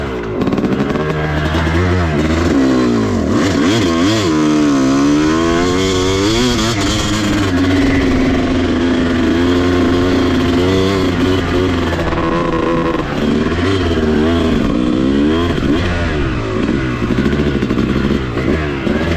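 A motorcycle engine idles on an overgrown singletrack trail, a steady loud rumble running throughout with shifting pitch as the revs are raised slightly, close to the listener with no talk.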